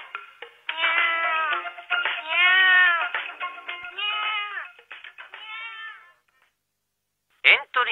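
A human voice imitates a cat in a Japanese radio drama, giving a string of drawn-out, plaintive meows one after another. Silence follows, then a brief sharp sound.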